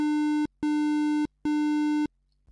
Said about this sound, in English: this time you can hear the O Morse code, three long beeps, which is the opposite of the S Morse code, three short beeps